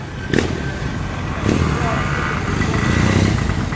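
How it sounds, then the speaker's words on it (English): The two-stroke engine of a Messerschmitt microcar at an evening car meet at Tern Hill Hall buzzes crisply and steadily nearby, with a couple of sharp blips of throttle. "Crisp sounding 2-stroke of the Messerschmitt"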